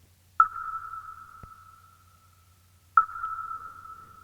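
A snare sample pitched up to sound like a musical note in the song's key: two clear, ringing tonal hits a few seconds apart, each with a sharp attack and a long, sustained fading tail, heard alone.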